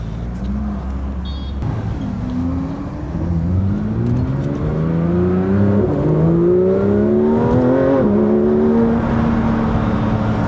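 A sports car convoy with a McLaren Artura and a BMW M4 Competition, engines droning loudly and close, revving up through rising gear pulls with a steady whir, no talking.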